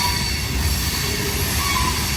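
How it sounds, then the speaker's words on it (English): A slow westbound CSX freight train rolls steadily past close by, with a continuous low rumble and thin high brake squeals rising over it, no voices. "That doesn't sound like a train that's going to be picking up speed anytime soon."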